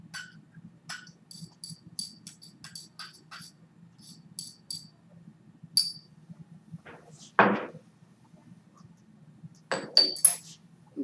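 A glass stir rod scrapes and taps against a glass beaker while crushed kiwi is pushed across in a quiet lab setting, giving scattered light clinks and one louder knock over a low steady hum.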